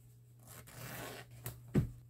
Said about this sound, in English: This pocket is my hidden zipper.